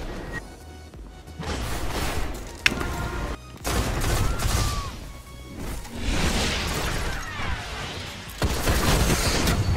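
Hand cannon fire from the Last Word in a Destiny Crucible match, dense with other gunfire and impacts: loud, continuous game combat noise with sharp crack-like bursts across the whole stretch, no talk.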